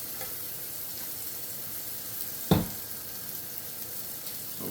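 Bacon and vegetables fry in rendered bacon fat with a steady close sizzle, broken once by a sharp clack of a utensil against the pan.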